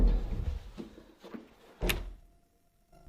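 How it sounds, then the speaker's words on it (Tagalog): A hidden secret door in an abandoned mansion swings shut with a few scraping wooden knocks and then a single firm thunk, heard close up with quiet room tone afterward. "Isa ito sa mga lihim na pintuan dito."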